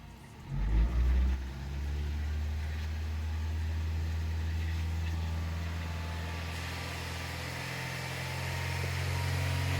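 A car engine idles and revs during a jump start, with a brief louder surge at the start before settling into a steady, fairly loud hum that rises slightly toward the end.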